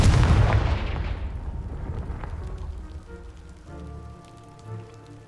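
In the Hogwarts Legacy video game, a Confringo spell blasts a pile of debris with a loud, booming explosion, followed by rumbling and crumbling rubble that fades over several seconds, then a faint game tone.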